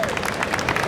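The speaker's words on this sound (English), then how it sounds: "I would like to have a big round of applause for my father" A hall audience at the IAAPA Expo 2019 applauding, dense close clapping with crowd murmur throughout this short burst.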